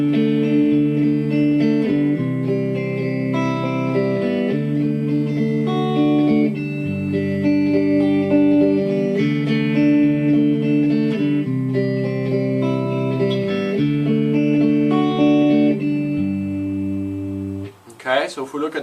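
Fingerpicked acoustic guitar plays a song in G, with thumb-struck bass notes under picked chord tones, steady and close, ending in a brief handling noise.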